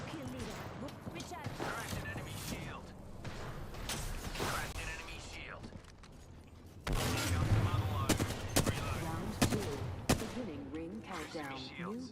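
Bursts of automatic gunfire and fusillades in a battle-royale video game, loud and repeated across the clip, mixed with game announcer voice lines and a player talking over the shots.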